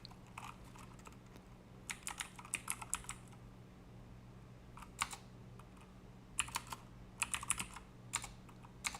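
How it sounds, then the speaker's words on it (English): Quick clusters of clicky keystrokes on a computer keyboard, bursts of typing separated by short pauses, close and quiet over a faint background hum, no speech. "I cannot type today"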